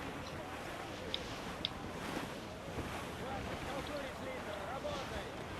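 Sailing ship in the Assassin's Creed IV: Black Flag game running under a crosswind, with steady wind noise, rushing water and waves beneath continuous talk and a couple of brief sharp clicks.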